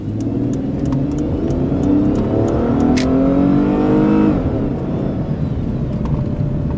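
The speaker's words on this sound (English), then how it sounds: "Let's go ahead and give it a little bit of gas." A 2001 Chrysler Sebring engine revving up under acceleration, loud and close, its pitch climbing steadily before easing off.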